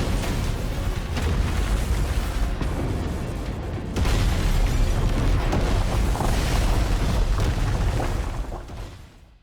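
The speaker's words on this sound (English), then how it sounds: "Huge nuclear kaboom." A huge nuclear explosion in the Tower of Fantasy game: a loud, sustained roaring rumble that surges again partway through and then fades away.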